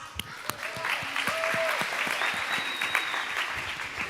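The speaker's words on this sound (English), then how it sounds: "Round of applause" Audience gives a round of applause at a church gathering as a team comes up for a mystery box game, a full, steady clapping crowd with a few sharper claps and faint musical tones underneath.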